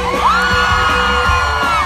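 A crowd at a Filipino band jam concert in the UAE yells and whoops loudly and steadily for a couple of seconds, with a sustained rising whoop standing out over the mass of voices.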